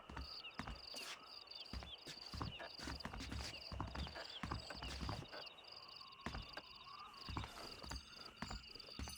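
Horse hooves clip-clop on the ground in the Western video game Red Dead Redemption, a brisk irregular series of crisp hoofbeats with faint ambient chirping behind.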